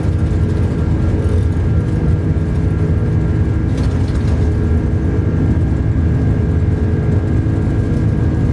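Airbus A330-300 jet engines at takeoff power in Microsoft Flight Simulator 2024, a loud, steady, continuous low roar with a faint high whine running underneath, no speech.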